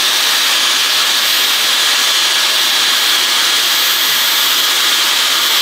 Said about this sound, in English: Start using this like a regular blow dryer.